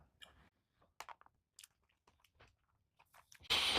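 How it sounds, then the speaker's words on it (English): Someone chews a bite of freeze-dried Mountain House survival meal up close, with soft irregular wet munching and crunchy bits between quiet pauses, then a sudden burst of louder noise at the end. "Let me try a bite without the egg"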